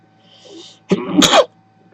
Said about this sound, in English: I do apologize profusely, everybody, for sneezing like that.